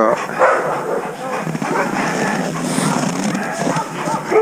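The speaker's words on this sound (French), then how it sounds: "Voilà mes 4 chiens. Ils ont été fidèles." Four sled dogs bark and yip at the end of a cold-weather dog-sledding adventure race, busy and continuous at moderate distance, with people talking over them.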